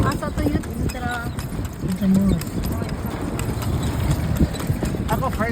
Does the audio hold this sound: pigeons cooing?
no